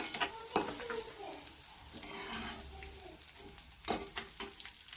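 Crushed cashews and almonds frying in ghee for carrot halwa, a soft steady sizzle with scraping stirs and a few sharp utensil clicks, fairly quiet throughout.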